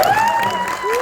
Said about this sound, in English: So a round of applause for Noah and Will.